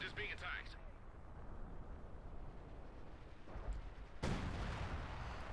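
German artillery shells a mortar emplacement in Company of Heroes 2, with low rumbling blasts and debris under a continuous voice, a sharp heavy explosion cutting in near the end.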